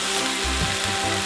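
Eggplant stew vegetables sizzling in a pot as they release water and oil, a dense continuous frying hiss with low bubbling thumps underneath, close and steady throughout.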